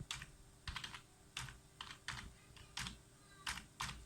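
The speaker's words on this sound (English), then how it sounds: "Punch in the password quickly." A computer keyboard being typed on in quick, uneven bursts of clicky keystrokes, close and quiet, entering a password without any talk.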